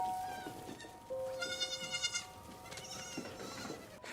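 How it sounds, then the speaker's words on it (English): A baby goat gives several short bleats in quick succession, fairly quiet, with a faint background hum. "It is a baby goat?"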